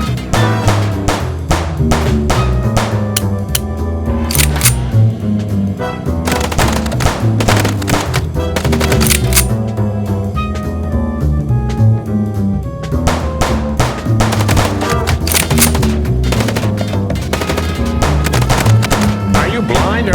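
Gunfire from the video game Chicken Police, dense repeated shots and sharp impacts layered over continuous music and effects during a car chase, loud and busy throughout.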